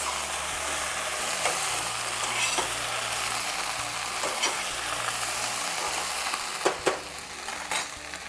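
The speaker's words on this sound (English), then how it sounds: "Now adding the peppers, medley of peppers, is about 3 cups. Stir," Three cups of mixed peppers stirred and frying over a low flame in a pan, a steady soft sizzle with faint scraping and a few sharper clinks near the end, no talking.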